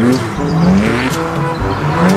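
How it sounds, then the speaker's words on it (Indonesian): Toy race car sound effect played near and loud, with a continuous engine-like whine that rises and falls in pitch, along with tire squeal and revving, running steadily throughout. "Yang ini ada mobil balap."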